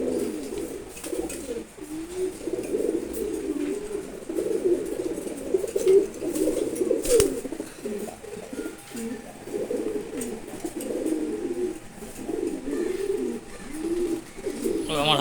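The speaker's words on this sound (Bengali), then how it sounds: "সব কবুতরগুলো খুব ফ্রেন্ডলি।" Pigeons, including racing birds and a red checker male, coo in repeated low rolling phrases close by, one bout following another with brief pauses between, over a quiet background.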